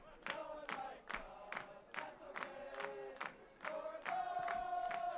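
A soccer match crowd at a Cincinnati Dutch Lions home game cheers and chants in the stands, with rhythmic rising bursts of voices and whoops, loud and sustained throughout.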